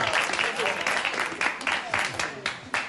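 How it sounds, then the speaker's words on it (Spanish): Welcoming applause from an audience greeting a professor at a talk, a loud steady patter of clapping with a voice speaking over it throughout. "Y pido para él de bienvenida un gran aplauso, por favor."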